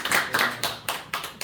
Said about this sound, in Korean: 오신데 우리 박수 안 해봅시다.